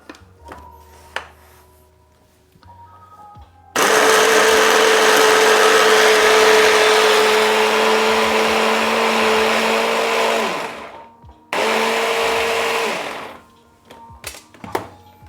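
Onion and garlic being whizzed in a blender: a loud steady motor whine runs for several seconds, stops briefly, then starts again for a shorter burst, with clunks before and after.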